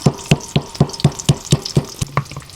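Papeda ingredients being stirred and worked in a mortar during Indonesian cooking give about ten sharp, evenly spaced knocks, roughly four per second, close and clear with no talking.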